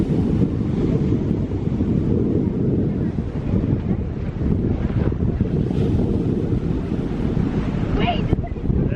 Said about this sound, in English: There's some big waves. Oh, look at those ones rolling in.